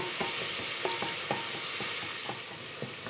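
Garlic sizzles steadily over medium heat in a hot pot while a utensil scrapes and stirs in irregular taps; no one speaks.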